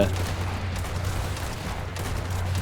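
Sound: gunfire shooting in mobile video game Zombie Horde

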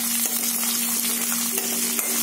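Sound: onions added to hot oil with cumin, sizzling

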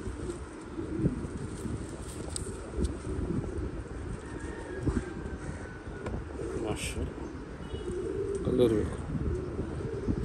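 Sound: pigeon cooing

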